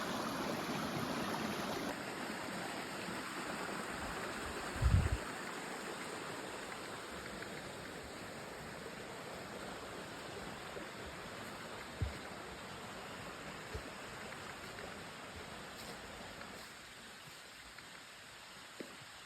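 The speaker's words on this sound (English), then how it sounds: "So this water comes from that upper pond down into my lower pond." Water running down from an upper pond into a lower pond in the Eastern Ontario bush, near a beaver dam, a steady broadband rushing flow throughout with a brief thump partway and no talk.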